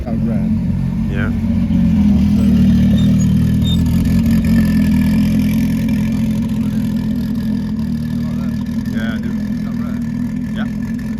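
Deep, steady rumble of a Ferrari 550 Maranello V12 idling close by at a car gathering, with a voice speaking over it.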